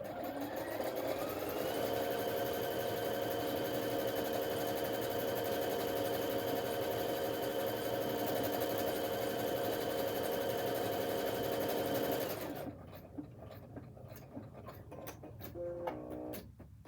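A sewing machine stitches a basic buttonhole with a fast, even mechanical whir and ticking for about twelve seconds, then stops, leaving quieter clicks and small mechanical sounds.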